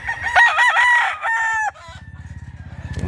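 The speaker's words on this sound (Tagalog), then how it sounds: "Makisig na manok." A rooster at a rooster market in Mantalungon, Cebu gives a loud, close crow with a long tonal call, followed by a rapid run of low, rhythmic clucks that grows steadily louder.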